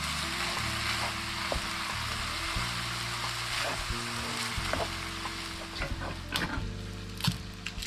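Ground beef fries in oil in a pan, a steady close sizzle with scattered pops and the scrape of stirring running through it, no voices.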